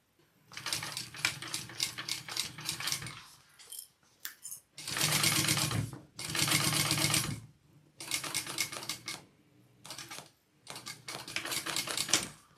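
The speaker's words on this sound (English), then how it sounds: "I'm going to do a second row of stitching right next to that first row" Domestic sewing machine running a second row of stitching on a bag's exterior side pieces, sounding in several loud bursts of rapid mechanical clatter separated by short pauses and small clicks, with no talking.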